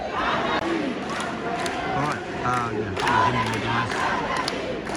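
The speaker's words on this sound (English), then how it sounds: "So it's a big crowd, very vocal." A large, very vocal crowd at an Iranian protest outside Sydney Town Hall chants and shouts continuously, with rising and falling massed voices filling the scene and a nearby voice talking over it.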